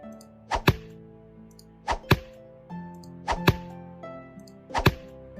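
Four tree-chopping hits from a Unity survival video game, each a sharp double thwack with a woody ring, spaced about every 1.4 seconds over a steady sustained musical bed.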